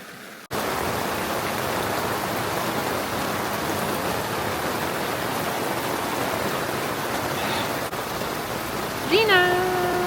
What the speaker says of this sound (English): We're ready for the rain.